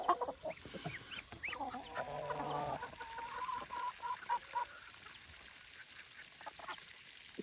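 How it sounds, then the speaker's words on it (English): Half-grown baby ducks call outdoors in a faint mix of peeps and short squawky notes, scattered and overlapping across a steady background hiss. "These are baby ducks. They are not full grown at all."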